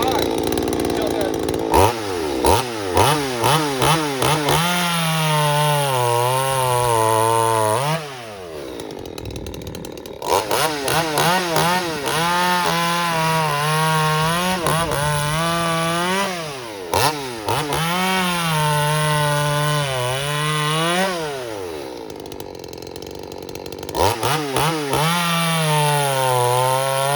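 A stock 42 cc strato big-box-store chainsaw runs through wood for a long stretch, its bar grinding into the cut as the engine bogs and recovers several times, loud and close, with short pauses between cuts.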